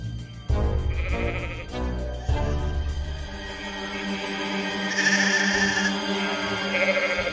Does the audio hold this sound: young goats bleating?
yes